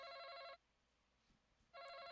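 A telephone ringing while a call is placed, two long electronic rings separated by a short silent gap, clear and steady with no talking in between.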